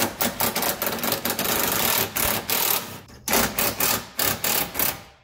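Rapid bursts from an impact or air tool loosen 12 mm radiator clamp bolts on a 2011 Subaru Outback. The buzzing bursts come close and loud in a stuttering sequence with short pauses between them.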